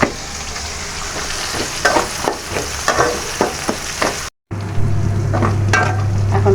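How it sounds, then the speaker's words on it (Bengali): Prawns and onions frying together in a pan, a steady loud sizzle with bursts of crackling and some stirring scrapes, briefly cut off by a short dropout before the frying resumes. "চিংড়ি মাছ আর পেঁয়াজ একসাথে ভাজা হোক"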